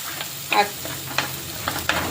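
Masala sautéing in oil for a Kerala fish curry, with a low steady sizzle broken by several sharp stirring scrapes of the spoon against the pan, no voices.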